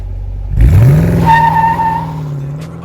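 Dodge Challenger R/T muscle car with a 5.7 Hemi V8 revs hard from idle, a loud deep rising roar that holds steady and then eases off, close and alone with no talk.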